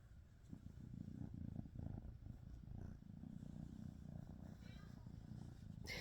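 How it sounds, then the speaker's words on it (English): A cat purring steadily and close, a low continuous rumble that keeps going for several seconds with faint rustling on top. "they're both purring up a storm, which is awesome"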